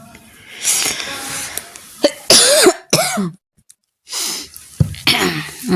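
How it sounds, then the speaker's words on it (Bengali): A person coughs several times at close range, harsh bursts with short pauses between them, and there is a little speech in the gaps. "কাশি হয়েছে বন্ধুরা"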